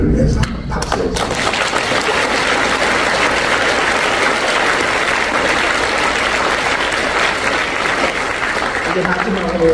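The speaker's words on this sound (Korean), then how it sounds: "평화를 잃지 않고 주의 사역을 감당하는 하나님의 종들을 위해서 박수해 주십시오." Congregation applauding during an evening worship service at a Korean church mission conference, loud, dense clapping that fills the room steadily for the whole stretch, with a voice briefly heard at the very start.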